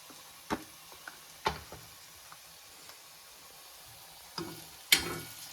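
Mushroom curry with chilli powder and garam masala being stirred in a pan, a faint sizzle under scattered scraping clicks of the spoon, with a few louder knocks near the end.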